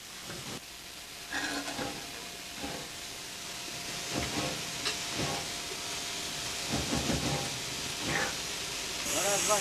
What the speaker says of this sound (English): the little shed at Kłodzko was still home to a stately fleet of steam engines